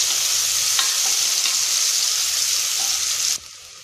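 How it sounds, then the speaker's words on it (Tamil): Oil sizzles steadily as chopped onions fry for white chana kurma, a loud bright crackle with occasional stirring scrapes, cutting off abruptly near the end. "இதுல பெரிய சைஸா ஒரு பெரிய வெங்காயம் பொடியா நறுக்கினது ஆட் பண்ணி நல்லா வதக்கிக்கலாம்"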